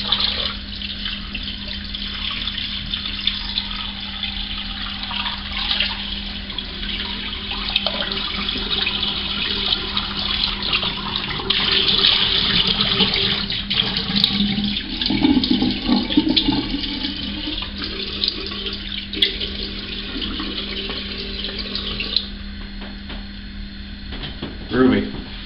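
Cold water runs steadily from a tap for a long stretch, a constant rushing splash with occasional shifts as something moves under the stream.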